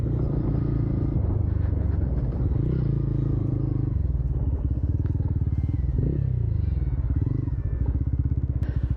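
A TVS Ronin 225 cruiser motorcycle rumbles along on a morning ride, a loud, steady engine drone close up that shifts pitch slightly midway, over continuous wind and road noise.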